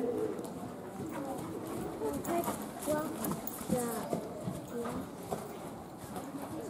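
A horse trots in a collected trot during a dressage test, with steady, close clip-clop hoofbeats throughout and pigeons or doves cooing in the background.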